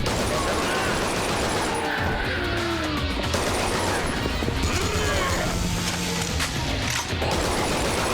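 Heavy anti-material rifle fire and impacts in the action game Yakuza: Dead Souls, loud continuous crashing blasts mixed with chaotic combat noise throughout.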